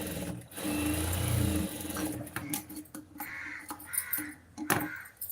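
A sewing machine stitches the side of a blouse lining, a quick whirring run up close, then quieter clicks and handling noises with short bursts of stitching.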